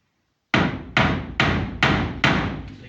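A steel hammer drives into timber with five loud, sharp blows, evenly spaced about half a second apart after a moment of silence. Each strike rings briefly and is close by.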